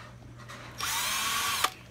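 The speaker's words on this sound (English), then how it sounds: "we're gonna slide this stuff down and we're gonna zap out some screws" A cordless drill with a screw bit backs screws out of a Kawasaki KE100-type motorcycle engine during a teardown, giving one loud, close whirring burst of about a second after a quiet start.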